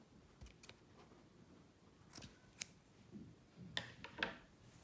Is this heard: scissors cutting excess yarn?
yes